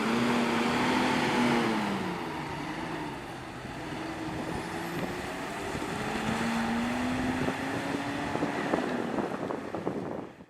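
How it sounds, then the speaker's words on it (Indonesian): Transport Ekspres bus with a Hino RM 280 engine pulling away on a morning Jabodetabek route, a loud steady engine drone with shifting pitch as it accelerates, wind buffeting the microphone, no talk. "Nah, dan berangkat unit transport ekspres Kudo Gadang ya."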